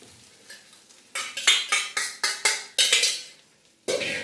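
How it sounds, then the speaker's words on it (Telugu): Cooked rice is stirred into fried mint leaves in a pan, a run of rhythmic scraping strokes from a spoon against the metal with light sizzle underneath and no voices. "ఈ పుదీనాలో వేగిన పుదీనాలో రైస్ని బాగా కలపాలి"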